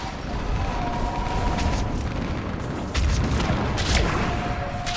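Artillery fire support in the video game Mass Effect 3, heavy booms and rumbling blasts rolling over a dense noisy battle backdrop, loud and continuous with sharper bursts around the middle.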